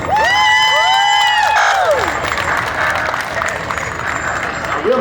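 At a county sorghum festival parade in Kentucky, the crowd claps and cheers for a veterans honor guard, with whoops and children's shouts over the sustained applause and a few high whistles early on.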